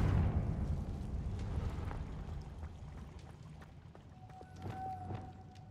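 Confringo fire spell explosion in the Hogwarts Legacy video game, a loud booming blast that rumbles and slowly fades, followed by scattered debris and crackling sounds with a faint tonal ring near the end.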